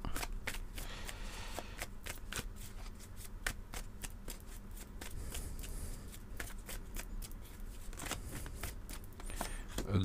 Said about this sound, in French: On va remélanger.